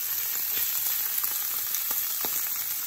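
Sausages fry in about a tablespoon of oil in a pan with a steady, close hiss and sizzle and small crackling pops scattered throughout, with no voices.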